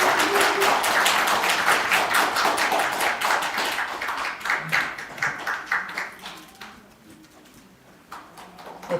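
Applause from an audience at an internet journalism award ceremony, loud and dense at first, then thinning to scattered claps that fade out near the end.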